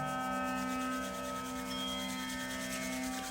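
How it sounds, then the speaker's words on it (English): Hands rubbing together during a guided live meditation, a steady, close, continuous rubbing swish over a soft sustained tonal background. "Now rub your hands together."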